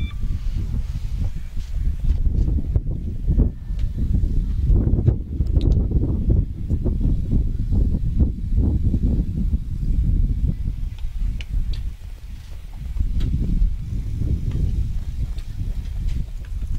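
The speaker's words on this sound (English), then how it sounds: "the wind does pick up a little bit" Steady outdoor wind at an archery match blows as a broad, loud rush with gusty swells and rumbling buffets against the microphone, sustained with no one speaking.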